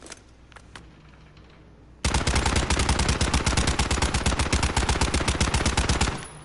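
A video game gun with a huge stock fires a long rapid automatic burst of evenly spaced, loud, close shots that starts abruptly after a quiet lead-in and cuts off after about four seconds.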